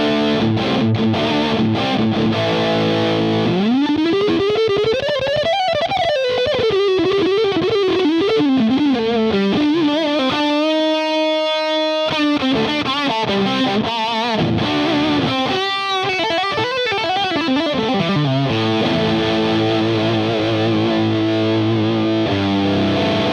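An electric guitar plays through an MXR Raijin Drive overdrive pedal set with drive at two o'clock and a noise gate, giving a loud, continuous distorted tone with sustained notes and a brief held chord.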